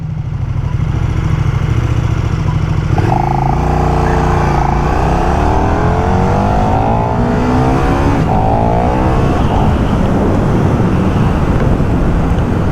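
KTM Superduke 1390R EVO motorcycle accelerating on a road at light throttle, a loud close engine note that drops and then climbs steadily in pitch over several seconds, rising again after a brief shift.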